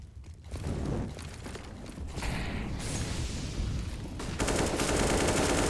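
Rapid overlapping gunfire and utility noise in a Counter-Strike: Global Offensive match on Inferno, dense bursts mixed with mechanical clatter, with no voices.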